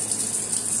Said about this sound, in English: I'm going to go ahead and give my meat a nice rinse.